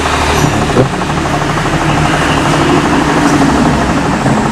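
Panasonic automatic washing machine drain pump running, a loud, close, continuous droning motor hum with slight pulsing, no speech over it.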